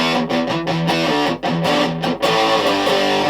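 An electric guitar played through a cheap fuzz pedal set toward a harder distortion tone, ringing out loud, thick, buzzing chords with a few short breaks between strums.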